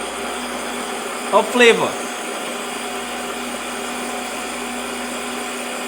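A blender whirs steadily through maple syrup garlic sauce, with a short sharp burst and a swooping drop partway through, while a voice speaks briefly over the motor.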